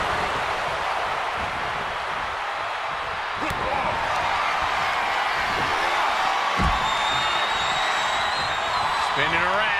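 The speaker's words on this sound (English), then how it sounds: "The sound of this crowd is deafening," A big crowd at a wrestling show roars continuously in a dense, loud wash of cheering, with an announcer talking excitedly over it and occasional thuds and squeaks from the ring.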